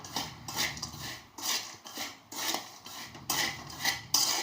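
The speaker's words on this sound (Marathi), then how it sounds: "थोड्या वेळ चांगला असं परतून घेऊया मिक्स होईपर्यंत" Spicy peanuts are stir-fried in a pan, with a rhythmic run of scraping and rattling strokes as a spoon tosses them, each stroke rising and falling in close, moderately loud bursts, and nobody speaks.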